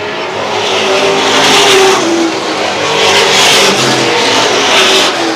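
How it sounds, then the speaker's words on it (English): Late model race cars racing at Star Speedway, a loud sustained engine roar swelling and fading as cars sweep past, with tire noise and no voices. "now Charlie Rose trying to open up his advantage in car number 91"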